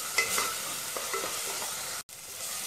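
Ginger garlic paste frying with onions in a pan for paneer capsicum biryani, a steady close sizzle with stirring scrapes throughout and a brief break near the end.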